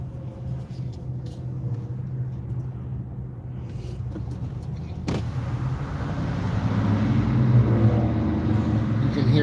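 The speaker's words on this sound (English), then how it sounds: "hear that car." A car engine rumbles past on a Detroit city street at rush hour, low and steady, growing louder toward the end as the vehicle comes closer.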